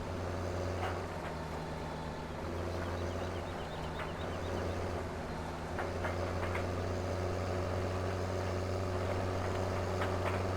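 Low, steady diesel drone of a tractor engine straining under a heavy load in Farming Simulator 17, a continuous rumble with faint higher mechanical whine and occasional clicks, running alone throughout.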